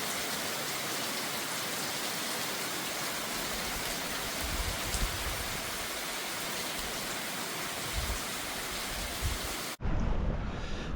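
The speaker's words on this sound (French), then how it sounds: "la pluie s'est mise à tomber" Steady rain falls in the Bay Islands of Honduras around a sheltered spot, a dense, even hiss of drops with occasional heavier patters, then an abrupt cut to a quieter, closer drumming near the end.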